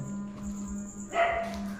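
A dog gives a short bark or yelp, fairly close, over a steady electrical hum and background noise.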